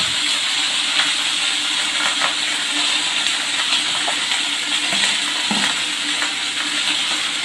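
Mixed vegetables for Bengali labra hit hot oil tempered with five-spice and ginger paste, producing a loud, continuous close-up sizzle and hiss with faint stirring beneath.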